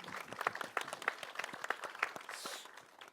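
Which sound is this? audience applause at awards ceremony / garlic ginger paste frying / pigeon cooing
audience applause at awards ceremony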